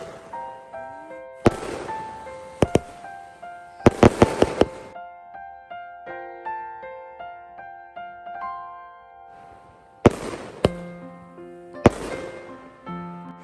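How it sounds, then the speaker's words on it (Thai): Fireworks set off in Takua Pa, Phang Nga give sharp cracking bangs in scattered clusters, mixed with sustained whistling and shrieking tones between the bursts. "วันนี้พี่จะทำการจุดพลุค่ะ"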